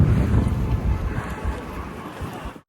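Strong outdoor wind buffets the microphone in Holland, a loud rumbling roar that lasts under three seconds and cuts off abruptly at the end.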